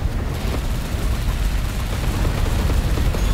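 Missiles firing in a video game amid a dense, continuous barrage of booms and blasts, loud and close with heavy low rumble throughout, without talk.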